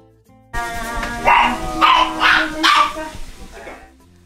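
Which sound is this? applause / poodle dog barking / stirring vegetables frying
poodle dog barking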